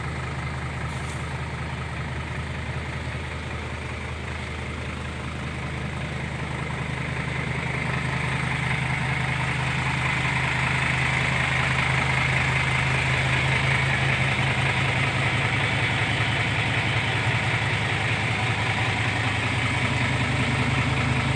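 A customised dump truck sits idling nearby with a steady, deep diesel rumble that grows slightly louder and fuller partway through and then holds constant, with no talking.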